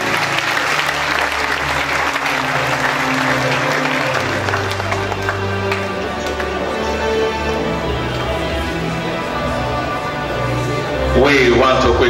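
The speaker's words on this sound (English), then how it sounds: "please a round of applause for our university" A university audience applauds for the University of Benin, a steady loud wash of clapping running the full length with sustained music tones underneath, swelling louder near the end.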